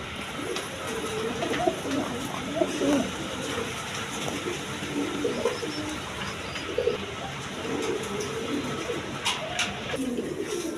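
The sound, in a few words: pigeons cooing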